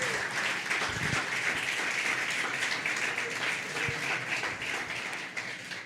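A church congregation applauds steadily for about six seconds, a dense, continuous wash of clapping at moderate level with a few faint voices mixed in.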